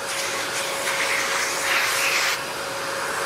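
A Flex 9-gallon HEPA shop vacuum running steadily in a garage, a continuous loud whine and rushing air with a brief swell in intensity midway, close to the listener and with no talking.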